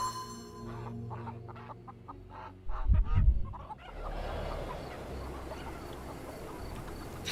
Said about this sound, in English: I can hear the chickens off in the distance